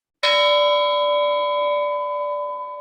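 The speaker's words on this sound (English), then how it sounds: "The bell invites me." A single bell strikes once during a theater rehearsal of Macbeth, with a bright clang, then its clear tone rings on and slowly fades, with no other sounds.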